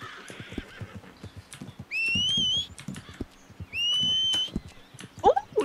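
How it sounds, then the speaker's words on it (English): A horse in the video game Red Dead Online neighs twice, two long rising whinnies, while hoofbeats clatter under the game sounds as it runs off. Quiet chatter runs in the background. "Your horse just ran off."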